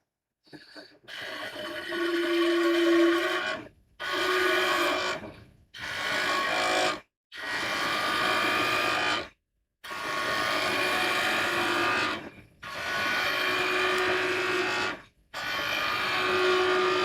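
Wood turns on a lathe under a skew chisel in a series of loud, close cutting passes, each lasting a few seconds and separated by short silent gaps, with a whirring scrape and a faint tonal hum.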